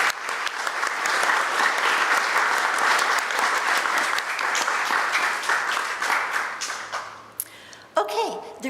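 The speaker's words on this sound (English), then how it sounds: "Would everyone please give a round of applause to Charlie for offering to do this?" An audience applauds Charlie at a community gathering, a sustained burst of many hands clapping close by that tapers off toward the end.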